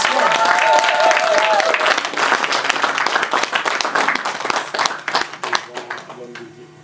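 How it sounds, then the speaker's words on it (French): Wedding guests applaud and cheer during a religious ceremony, a dense, loud burst of clapping with whistles near the start that gradually thins and fades over several seconds. "On peut l'encourager par des acclamations."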